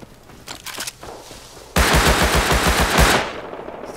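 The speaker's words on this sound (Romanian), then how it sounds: "Stai că aud un tip în spate că se trage după mine." Gunfire from behind the player in the Rust video game, a sudden loud burst of rapid automatic shots after quieter shuffling, close and dominant, then fading out.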